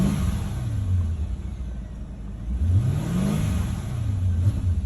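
A 2008 Mercedes-Benz S550 (W221) with an ESP malfunction is revved in rising and falling swells, its engine rumbling loud and close throughout with no talk.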